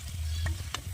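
Curry leaves crackle and sizzle as they hit well-heated oil for the tempering of a crab curry, giving a short, close burst of frying with sharp pops.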